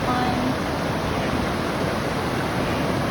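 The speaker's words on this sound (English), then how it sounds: "Little waterfall." A small waterfall on the Appalachian Trail in northern Maine pours steadily, making a continuous broadband rush of falling water that stays even and close throughout, with no voices over it.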